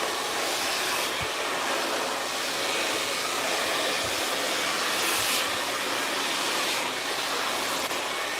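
A hair dryer blows natural hair with a loud, continuous, close-up whoosh of air that holds steady throughout, with small shifts in tone as the dryer is moved along the hair.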